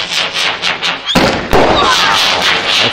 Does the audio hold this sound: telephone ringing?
no